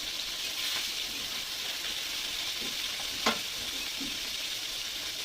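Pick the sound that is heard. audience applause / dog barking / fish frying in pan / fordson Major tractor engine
fish frying in pan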